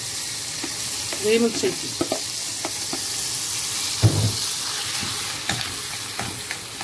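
Washed, drained rice goes into a hot pan of ghee and oil for pigeon stuffing, giving a steady loud sizzle with scraping stir strokes, and a voice speaks briefly over it.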